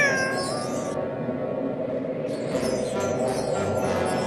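A cartoon cat from The Smurfs meows in drawn-out, wavering cries, close and fairly loud over a busy animated soundtrack, with no talking.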